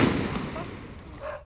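A firecracker bursts during Diwali celebrations, a loud broadband blast right at the start that trails off into a noisy wash, with faint voices nearby.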